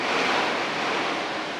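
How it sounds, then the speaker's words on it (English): Hurricane Ian storm wind in Florida roars as a steady, loud broadband rush, dense and unbroken for the whole moment with no voices. "that's more like the Hurrican. It literally changes every few minutes."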